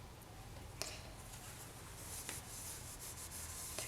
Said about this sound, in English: I'll just dip my cloth into the Renaissance wax, and then I'll burnish my piece over it